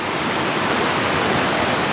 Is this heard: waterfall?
yes